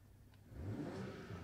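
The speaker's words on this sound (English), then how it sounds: "he can also rev it up a little bit" A BMW M340i's engine gives a brief, quiet rev, rising gently and fading within about a second and a half, heard from some distance.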